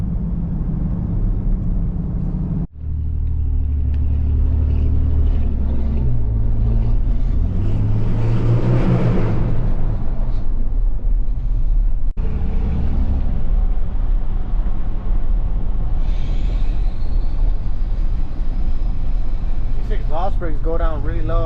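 A truck engine idling and lugging at low revs, around 1,000 RPM, gives a steady close rumble throughout, with a voice talking over it.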